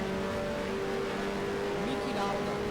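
Formula One race car engines from the 1973 season in the F1 Challenge game, McLarens among them, drone steadily and loud and close throughout, with a faint rise in pitch near the end.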